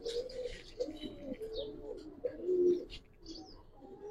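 Caged Giribaz pigeons of the Palla line, silver Giribaz birds, coo in repeated throaty rolls close up, the murmuring strongest midway and trailing off, with scattered soft chirps and brief faint talk.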